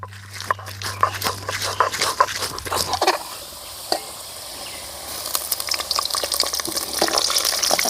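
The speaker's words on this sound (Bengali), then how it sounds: "আলুগুলোকে লাল লাল করে ভেজে নেব।" Potato pieces frying in refined soybean oil, a steady broadband sizzle that grows louder toward the end, with scattered clicks and clatter of utensils throughout.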